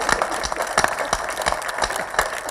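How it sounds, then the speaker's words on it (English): Audience clapping at an IIT Roorkee alumni association chapter ceremony in Dehradun, a steady run of many hands with sharp, fairly close claps repeating through the whole stretch. "Let's clap."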